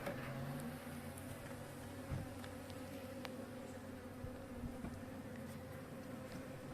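A steady, dense buzzing of many honeybees hums continuously at close range inside a hive weakened by varroa mites and wax moths, with no voices over it.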